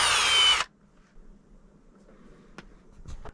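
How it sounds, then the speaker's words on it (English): A power screwdriver drives Phillips screws out of the plastic cover on a BBS02 motor. A loud, steady whir runs for about half a second and then cuts off, followed by quiet handling and a few faint clicks. "we're gonna take all these Phillips screws out of this plastic cover, and we're gonna take all these screws out"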